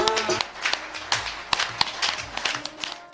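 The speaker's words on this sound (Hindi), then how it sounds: "जरा जोर से ताली बजाना" Scattered, uneven hand claps from an audience at a Shri Ram devotional programme with a Ramayana competition, sharp bursts spread over a few seconds with voices and tonal sound mixed in beneath.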